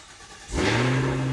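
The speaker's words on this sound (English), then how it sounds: "for the sake of the video, we're going to be starting the car" A 2023 Cadillac Escalade-V V8 fires up from cold: quiet for half a second, then the engine catches with a loud rising burst of exhaust that settles into a steady, deep rumbling idle, up close with no talk.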